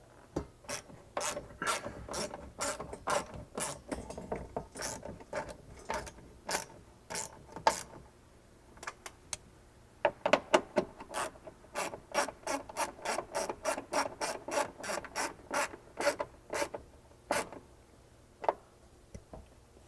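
Bolts being tightened on a rear window MOLLE panel of a 4th-gen Toyota 4Runner, heard as a long run of rapid, close ratchet clicks in bursts with short pauses, loud and alone.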